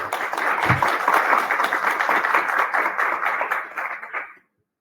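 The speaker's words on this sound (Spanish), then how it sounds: "Aplausos, por favor." An audience applauds after a soil science symposium presentation in Chile, with steady, fairly close clapping that continues for several seconds and then stops abruptly.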